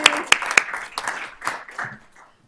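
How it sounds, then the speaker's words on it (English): Scattered audience clapping at a school board of trustees meeting, a few sharp individual claps followed by brief, thin applause that fades out within two seconds. "So let's give them a round of applause."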